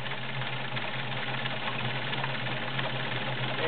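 Steady, even whirring and rapid needle clatter of a Kenmore 1750 heavy-duty sewing machine stitching a stretch zigzag, running continuously and close by with no talking.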